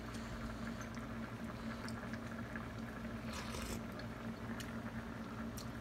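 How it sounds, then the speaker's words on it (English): A pot of white beans boils on a stove, a faint, steady bubbling with soft pops and a low hum beneath it. "look how high I have my beans cooking"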